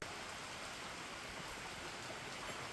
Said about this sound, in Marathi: कारण बाहेर पाऊस चालू आहे